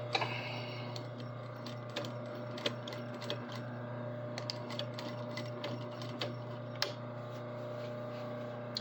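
A sewing machine runs steadily along a long seam on a sleeve, making a low, even motor hum with a quiet, rhythmic ticking of the needle throughout.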